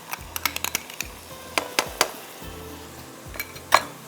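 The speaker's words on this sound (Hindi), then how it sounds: "और इसको हमने इस तरह से आपने चम्मच चलाना है" A spoon stirs and scrapes roasted coconut, cumin and peanut masala mixed with yogurt in a pot, producing quick irregular clicks and taps against the metal over a faint sizzle.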